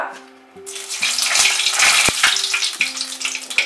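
Bay leaf dropped into three tablespoons of hot mustard oil in a heated kadai, bursting into a loud crackling sizzle that carries on steadily, with a few sharp pops and clinks of a utensil.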